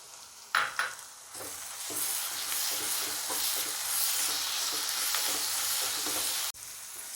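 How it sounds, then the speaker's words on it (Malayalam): Half-cooked onion and ginger-garlic paste sauté in a hot pan for pepper chicken, a steady close sizzle with scraping stir strokes and a few sharp clacks of a spoon, ending abruptly. "അതിലേക്ക് നമ്മൾ ഇഞ്ചി വെളുത്തുള്ളി പേസ്റ്റ് അതും ഇട്ടൊന്ന് വഴറ്റിയെടുക്കാം."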